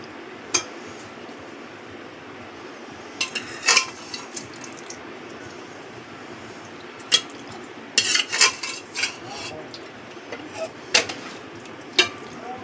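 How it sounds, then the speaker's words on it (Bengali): A metal spoon clinks and scrapes against a mutton biryani pot as potatoes are added and stirred, giving sporadic sharp knocks and clusters of clatter over a quiet kitchen background. "আলুগুলো দিয়ে দিচ্ছি"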